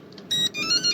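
An electronic card door lock answers a key card with a few short, bright electronic beeps and chirps, close by and clear against a quiet room.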